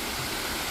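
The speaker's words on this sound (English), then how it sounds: "Might come back over to get some shots of this waterfall over here" Waterfall at Clear Creek State Park, a steady broad rush of falling water, continuous and fairly close.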